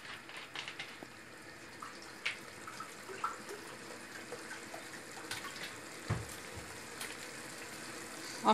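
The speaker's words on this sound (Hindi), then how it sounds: "अब तकरीबन 1 कप इसमें पानी डालूंगी।" Water is poured into a pot of palak mutton while cooking, a soft continuous splashing and trickle with faint clinks, low in level and without talk.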